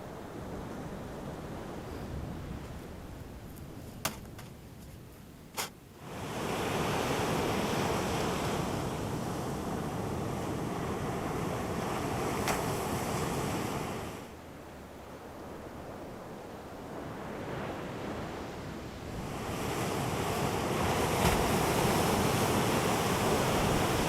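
Ocean waves wash onto the shore in long, loud surges of rushing noise, fading into quieter lulls between breakers, with a couple of sharp knocks early on and no talking.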